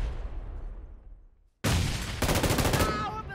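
Gunfire in a first-person shooter game: a loud burst of rapid shots breaks in after a fading rumble and near-silence, close and harsh, with faint game sounds at the end.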